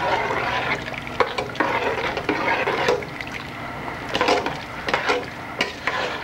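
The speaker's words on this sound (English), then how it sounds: "All right, stir this up." A spoon scrapes and stirs vegetables with celery in a pot for a vegetarian chowder, giving irregular close clatters and soft sizzling.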